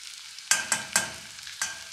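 Ground pimento, sliced green scotch bonnet and diced carrot are sautéed for a Jamaican Ital stew. Four sharp bursts of sizzling, likely as food is stirred or added, rise over quiet pan hiss and trail off after each.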